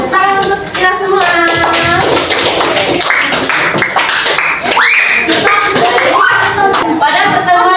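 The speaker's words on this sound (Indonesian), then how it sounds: "Sekarang tepuk tangan untuk kita semua." A class of students clapping hands together at the end of a school lesson, close and loud, with voices and shouts mixed in over the clapping throughout.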